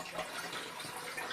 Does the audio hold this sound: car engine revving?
no